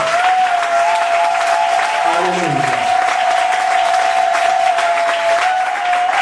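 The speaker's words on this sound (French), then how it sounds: "Acclamez le Seigneur." At a French-language church service, the congregation's applause fills the room under a sustained held musical note while a voice calls out briefly over the clapping.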